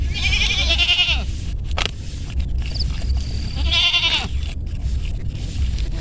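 Goats bleat loudly nearby in two long wavering cries, separated by rustling and a few clicks, with no talking.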